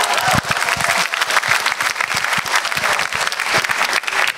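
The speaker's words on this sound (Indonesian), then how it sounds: "Beri tepuk tangan untuk Aldi dan juga Budi." Audience applause at a stand-up comedy show in Indonesia, a steady wash of clapping from a large crowd that carries on for several seconds at full strength.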